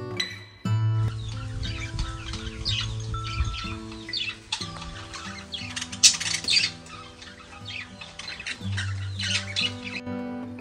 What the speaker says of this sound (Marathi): तुम्हाला तुमच्या कानावर पक्ष्यांचा किलबिलाट मात्र नक्की ऐकू येईल